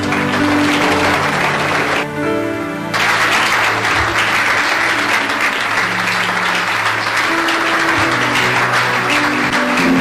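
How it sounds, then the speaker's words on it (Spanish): A church congregation bursts into loud, sustained applause for Christ, a dense roar of clapping that holds strongly for the whole stretch with a brief dip early on. "Denle un aplauso a Cristo, por favor."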